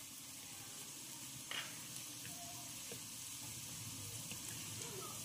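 Aloo tikki shallow-fry in oil over a medium gas flame, giving a faint, steady sizzle with one brief clink of a utensil early on.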